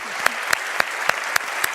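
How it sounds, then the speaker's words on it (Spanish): Clapping from the audience at a bank's annual strategy conference: crisp, evenly paced claps about four per second over a light background of hands. "Un aplauso para él."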